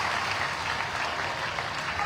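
Applause from a crowd welcoming a revered guest at a Bhagwat Katha religious gathering in Ratlam, Madhya Pradesh; a dense, steady wash of clapping fills the whole stretch with no voices over it.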